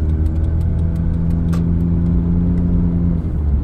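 A Honda Jazz RS fitted with a double Blackcore upgrade revs as it accelerates, giving a steady mid-pitched engine drone with a faint tick pattern above it, heard from inside the car without talking.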